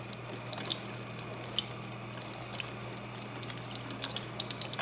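A makeup brush is rinsed under a steady running faucet, the water hissing and splashing continuously into a sink, close and even throughout with no talking.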